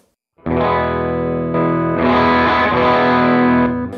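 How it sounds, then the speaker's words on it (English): An electric guitar rings out through a Revv Tilt overdrive pedal, gritty, a sustained distorted chord followed by a second, fuller chord that holds, loud and close. "I like using this overdrive as a boost"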